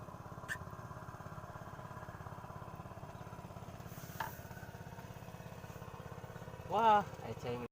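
A boat engine runs steadily while fishing at Cirata reservoir, a low, even mechanical chug that continues unbroken, with a few brief knocks and a short voice near the end.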